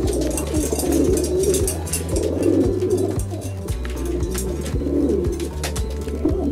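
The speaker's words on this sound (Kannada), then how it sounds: "ಭಾಳ ಹೊತ್ತಾದ್ಮೇಲೆ ಒಳಗಡೆ ಬಂದಿದ್ದಾವೆ ಬರ್ಡ್ಸ್" Racing pigeons coo inside their loft in soft repeated rolling calls that overlap in a near, steady chorus, with light rustling and no talk.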